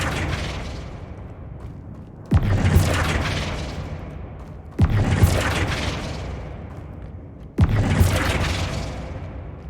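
The Flipendo spell cast in Hogwarts Legacy on PS5: three heavy booming impacts, each a sharp hit followed by a long rumbling decay, spaced a few seconds apart.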